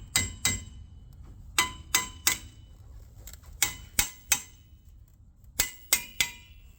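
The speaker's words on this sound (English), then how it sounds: "nice trusty old hammer. So we just want to tap on this." A hammer taps on a car brake rotor in repeated sharp metallic strikes, mostly in quick pairs and triples with pauses between, close and ringing, no talk.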